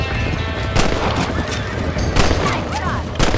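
Gunshots ring out at coyotes in Red Dead Redemption, several sharp cracks spaced about a second apart over galloping hooves and game ambience, with a voice speaking briefly.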